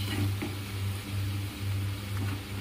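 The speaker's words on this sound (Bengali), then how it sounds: "আর একটু কাঁকরোল ভাজা করে নিই।" Spiny gourd (kakrol) slices frying in a pan, a close, continuous oily sizzle with a low pulsing hum underneath and faint stirring.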